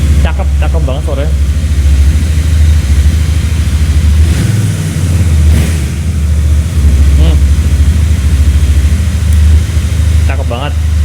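A Royal Enfield 650 parallel-twin motorcycle sits idling with a low, even, throbbing rumble nearby, while someone talks over the engine throughout.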